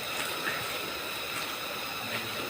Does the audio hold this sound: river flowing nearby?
yes